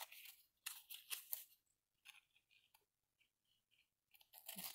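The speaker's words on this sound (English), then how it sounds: "Just trim off your excess" Scissors trim the excess edge off a photo slide charm made from a vintage 35mm slide, a series of faint close snips and clicks separated by brief quiet pauses.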